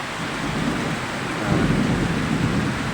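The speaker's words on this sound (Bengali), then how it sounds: "ঢাকা শহরে হয়তো সর্বত্র এবং ঢাকার আশেপাশেও মুষলধারে বৃষ্টি" Heavy monsoon downpour over Dhaka on a May morning, a dense steady roar of rain with low thunder rumbling underneath that swells midway, continuous and close with no voices.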